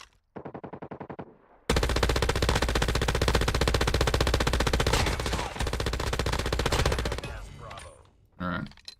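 An MG82 light machine gun in COD Mobile fires with no attachments: a short rapid burst, a pause, then a long, loud, unbroken stream of automatic fire lasting about six seconds, ending in a final quick burst.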